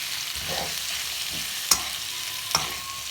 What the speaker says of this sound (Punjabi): ਉਹਦੇ ਵਿੱਚ ਅਸੀਂ ਜਿਹੜੇ ਆਲੂ ਤੇ ਪਿਆਜ਼ ਫਰਾਈ ਕੀਤੇ ਸਨ ਉਹ ਮਿਕਸ ਕਰ ਦੇਣੇ ਆ ਮਿਕਸ ਕਰਾਂਗੇ ਚੰਗੀ ਤਰ੍ਹਾਂ ਇਹਨਾਂ ਨੂੰ ਮਸਾਲਿਆਂ 'ਚ